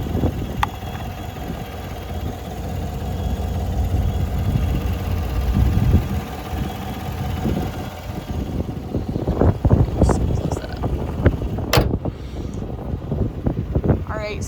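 A 2014 GMC Sierra 1500 SLE engine idles in a steady low rumble, with a person talking over it and some handling noises toward the end.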